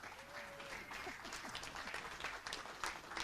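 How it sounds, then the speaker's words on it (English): Steady applause from a crowd at the women's 10m standing air rifle SH1 para shooting final, a dense wash of clapping that continues throughout at a moderate distance. "Big applause."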